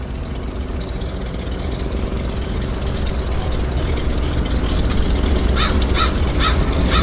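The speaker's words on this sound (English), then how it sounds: "they're warming up this round engine Beaver right there." Round-engine de Havilland Beaver floatplane warming up at a harbour seaplane base, a steady low engine rumble close by, with crows cawing loudly over it and a brief burst of bird calls near the end.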